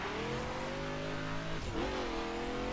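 An RT35 drag car in the racing game The Crew revs hard, its engine whine climbing steadily in pitch, then dipping briefly as it shifts before pulling on again, loud and close.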